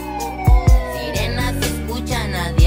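A siren sound effect mixed into a Spanish-language barrio rap song, its wailing tone sliding downward over heavy thumping beats and backing music.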